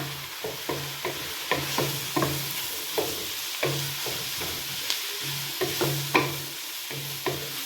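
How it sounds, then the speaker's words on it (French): Onion, garlic, ginger and carrot are stirred and fried in a pot, giving a steady sizzle broken by repeated scraping strokes of a spoon at a regular rhythm. "Bien tourner."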